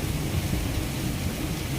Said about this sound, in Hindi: तो बाहर हो रही है बारिश धम धमाधम